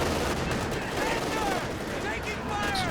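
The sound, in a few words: Calliope rocket barrage in video game Company of Heroes 2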